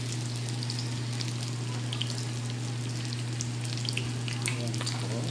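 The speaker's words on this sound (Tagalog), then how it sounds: "Yan, ilagay po natin yung ating lumpia." Lumpia sizzle and crackle steadily in hot oil, a dense continuous frying hiss with a low hum beneath and no voices.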